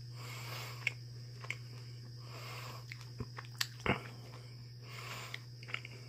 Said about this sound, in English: Getting that crunch back as the water is getting put back into the pickle.